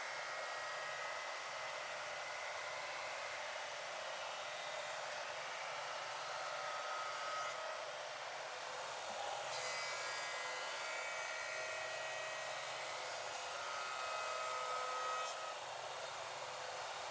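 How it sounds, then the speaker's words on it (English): A woodworking shaper runs with a loud, steady high-pitched whine and airy roar while smoothing bandsawn plant stand legs, its pitch shifting slightly as the wood is fed through. "then John Henry used the shaper at his shop to smooth those cuts"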